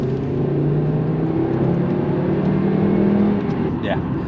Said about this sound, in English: you get that sort of lovely engine roar. It's just sort of meaty sound coming from the front, from the from the Inline 5